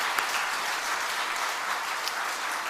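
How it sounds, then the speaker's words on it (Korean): A church congregation applauding during a Sunday service, a steady, dense wash of clapping from many hands throughout. "우리 박수 한번 할까요?"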